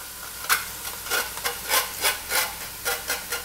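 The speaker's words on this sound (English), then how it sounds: "This is 2 cups of barley, and we are just going to dump it right in." Dry rinsed barley, two cups, pours and rattles into a pan of browning beef, a series of short scraping, rustling bursts at close range with faint sizzle beneath, no voices.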